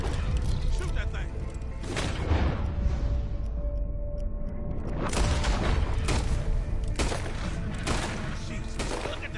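Gunfire aimed at a large alligator in Red Dead Redemption 2, heard as a dense run of loud shots and booms over steady game noise, with voices talking throughout.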